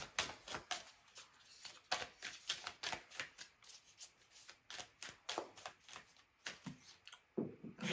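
Tarot cards being shuffled close up, a rapid run of crisp riffling and slapping bursts in a quick uneven rhythm, quiet and alone without talk.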